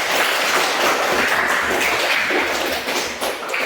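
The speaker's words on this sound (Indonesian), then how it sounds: "Tepuk tangan untuk diri kalian." A class of students in a school lesson claps for themselves, giving a steady, fairly loud spell of group applause that lasts throughout with a slight dip near the end.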